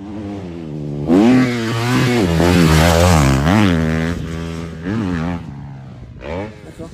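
A motorcycle revs and accelerates through rising and falling engine pitches, loud and close, with the tone climbing through gears and easing off near the end.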